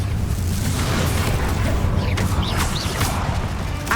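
Bombarda blasting spell in Hogwarts Legacy: a dense, booming explosive rumble with crackling debris and bursts over a constant heavy low roar, loud and close throughout.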